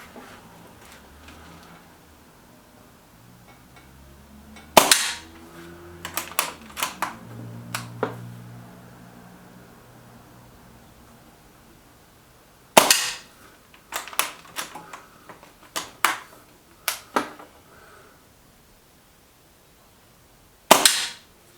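Walther Rotex RM8 .22 air rifle firing Gamma Pro Hunter pellets: sharp, loud single cracks spaced several seconds apart, each followed by a cluster of quick clicks and ticks of the action, with no voices.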